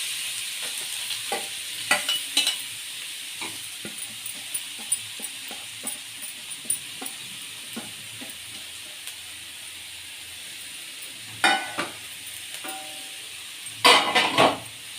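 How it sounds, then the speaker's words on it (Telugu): Grated carrot fries slowly over a low flame in a pan with cashews for carrot halwa, a steady soft sizzle broken by repeated scraping stirs and a few louder clanks of the spoon against the pan. "ఈ క్యారెట్ తురుము మనము స్లోగా చిన్న ఫ్లేమ్ పైన ఫ్రై చేసుకోవాలి"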